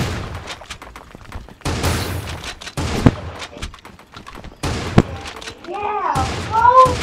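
Gunfire in a Battle Royale shooter video game, several bursts of shots and thumps spread across the clip, with a player talking and exclaiming over them.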